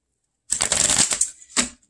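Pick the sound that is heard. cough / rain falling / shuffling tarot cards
shuffling tarot cards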